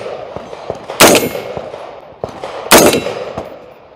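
DPMS DR15 rifle fired outdoors at a shooting event, two sharp, loud reports about 1.7 seconds apart with bright metallic ringing tails and a few softer clicks between them.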